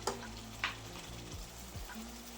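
Egg curry masala sizzles in a pan as it is sautéed, a close, soft frying hiss with a couple of sharp stirring clicks and a low background hum, no voices.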